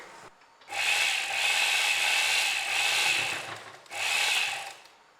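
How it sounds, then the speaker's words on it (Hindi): A sewing machine fitted with a zipper foot stitches buttons onto a potli, running in a steady close whirring burst for about three seconds, then a short pause and another brief run. "अब हम इसको ऐसे रखते जाएंगे और हम सिलाई लगाते जाएंगे"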